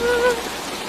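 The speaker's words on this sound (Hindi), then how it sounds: "बारिश बहुत तेज है" Heavy pouring rain drumming steadily, a dense close hiss with faint tonal music lying briefly over it at the start.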